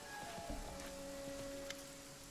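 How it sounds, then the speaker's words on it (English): Steady rain falls in the video game Pathfinder Kingmaker, a soft continuous wash of drops under a faint tonal game-music drone, with no talking. "Oh, the rain is abating."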